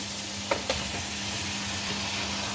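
Fried chicken pieces sizzling in a pan of cooked masala for palak gosht, a steady soft hiss of frying with a couple of light knocks from stirring, no talk.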